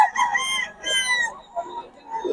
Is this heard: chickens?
yes